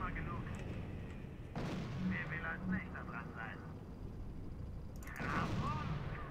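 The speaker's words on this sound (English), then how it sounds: "Artillery is at least opening fire on him" Artillery opening fire in the strategy game R.U.S.E., with two heavy booming blasts a few seconds apart and rumbling tails, mixed with battle effects while someone talks over it.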